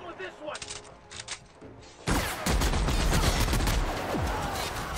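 Video game gunfire in The Outer Worlds: a few scattered shots give way to a loud, continuous barrage of rapid automatic fire that keeps going to the end.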